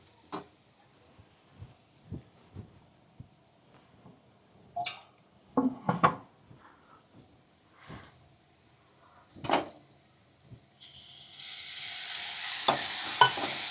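A spoonful of water is added to sizzling masala for a green pigeon pea kachori filling. Scattered stirring taps and scrapes in the pan are followed by a loud, rising sizzle that hisses steadily to the end. No one speaks.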